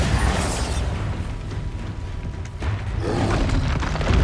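A Bombarda blasting spell in the Hogwarts Legacy video game, a loud low boom and rumbling burst with crackling debris, swelling again toward the end.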